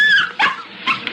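A small dog whimpers and yips in three close, loud, high-pitched bursts, each a short whine trailing off, with no talking.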